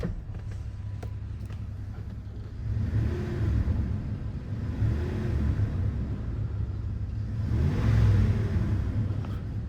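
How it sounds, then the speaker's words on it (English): A Silverado replacement truck rumbles and revs with an exhaust note, low and droning, swelling in three or four rising surges, heard from inside the cab with no talk. "You can hear that exhaust."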